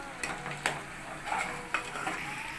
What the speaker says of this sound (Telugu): ఈ కారం అంతా ముక్కలకు పట్టేలా ఒకసారి కలుపుకోవాలి